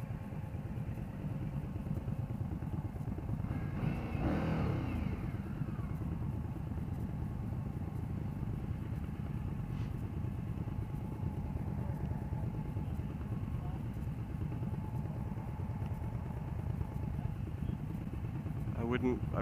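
A 2015 Indian Scout motorcycle rides in third gear at low RPM, its engine holding a steady, continuous drone throughout with wind rush, while a rider talks over it at times.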